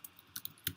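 Several quick, light keystrokes on a computer keyboard, tapped close and quietly in an irregular rhythm with short gaps, and no voices.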